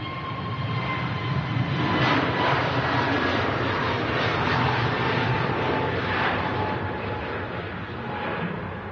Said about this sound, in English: easyJet Neo on the roll.